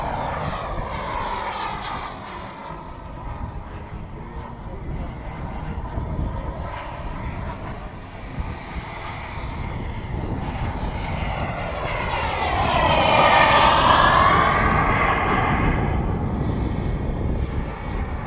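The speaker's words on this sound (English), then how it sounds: "Phantom on gear pass. We're on a gear pass. Gear pass for the Phantom." A 1/7th-scale Skymaster F-4 Phantom model turbine jet makes a low gear-down pass, its loud, steady roar and whine swelling to a peak as it goes by, then easing off slightly. No voices are heard.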